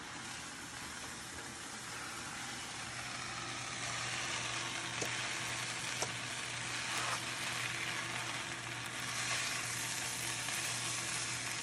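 Sauce sizzles steadily in a wok as it is worked into chicken fried rice with orange, a continuous hot frying hiss with occasional scrapes and a low hum underneath.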